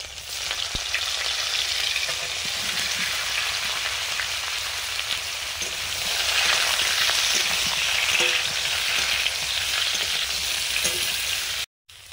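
Whole cumin seeds crackle and sizzle steadily in hot mustard oil, a dense, close, continuous frying hiss that holds level throughout and drops out abruptly just before the end.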